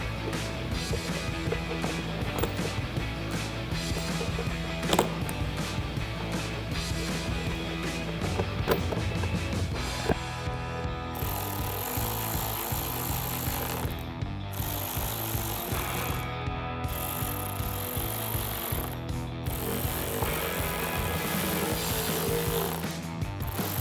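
A power tool with a 7mm socket tightens headlight bolts into U-clips on a 2015-2023 Dodge Charger, buzzing loudly and steadily for a long stretch, then running in several shorter bursts separated by pauses.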